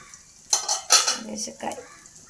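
A cooking pot's lid comes off with a few metallic clanks and scrapes, close and fairly loud, in two short bursts with a brief clatter of cookware in between.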